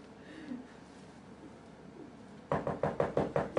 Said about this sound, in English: How they knock.